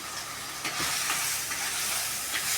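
Food sautéing in a pan gives a steady sizzle with soft scraping stir strokes throughout, fairly close and with no talk over it.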